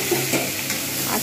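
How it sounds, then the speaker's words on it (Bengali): Potatoes added to reddened frying onions in a pan and stirred, a brief loud burst of sizzling with scraping stir sounds, close up and without talk. "এবার আমি এর মধ্যে আলু দিয়ে দেবো।"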